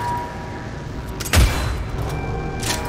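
A single sharp boom-like gunshot in the video game Cyberpunk 2077 cracks out in the middle, with a fainter burst near the end over a low steady background hum.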